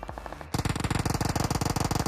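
Rapid automatic gunfire from the video game PUBG, a brief quieter stretch giving way to a loud, sustained burst of evenly spaced shots that keeps going to the end.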